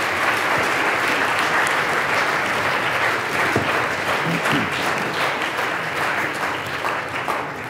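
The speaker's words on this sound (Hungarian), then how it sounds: "Egy tapsot azért szerintem megérdemel." Classroom or lecture-hall audience applauding a student after a physics demonstration, loud continuous clapping from many hands that holds steady and then eases slightly toward the end.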